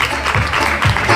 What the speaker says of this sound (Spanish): Un fuerte aplauso para nuestro amigo Luis.